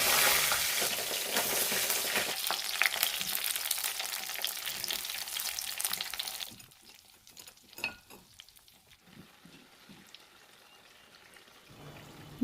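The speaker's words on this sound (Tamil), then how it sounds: "இந்த கத்திரிக்காய் ஒன்று ஒன்றா எடுத்து நம்ம அந்த எண்ணெயிலேயே சேர்த்துடுறோம்" Eggplants frying in hot sesame oil with mustard seeds give a loud, dense sizzle through the first half, then drop to quieter crackling with scattered stirring clicks and scrapes.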